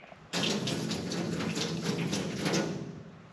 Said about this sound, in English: I'm gonna pour some of this in mine.